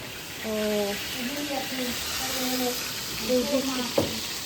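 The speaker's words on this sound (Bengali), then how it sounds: "এদিকে নিরামিষ রান্না হচ্ছে" A vegetarian dish frying in a home kitchen gives off a steady, close sizzling hiss that runs throughout, while voices talk over it.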